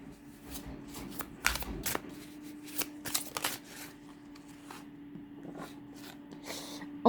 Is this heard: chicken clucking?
no